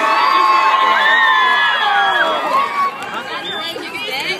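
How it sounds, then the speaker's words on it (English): A concert crowd cheers and shouts loudly and steadily, a dense wash of whoops and chatter that eases slightly toward the end. "How's everybody doing on the crowd? Want to get some noise?"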